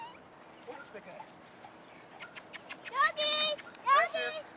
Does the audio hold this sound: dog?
yes